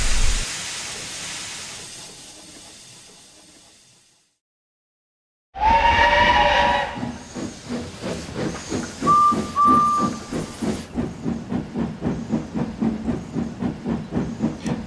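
A steam train starts off after the guard's whistle, first with a long loud hiss of steam, then a sudden burst and a steady rhythm of chuffs that speeds up, with a short whistle in the middle.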